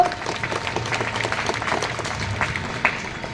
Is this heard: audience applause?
yes